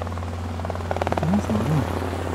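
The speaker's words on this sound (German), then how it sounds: "Wir hören die Drohne, ja." A drone flying nearby gives off a steady low buzzing hum that stays constant throughout, with people talking close by over it.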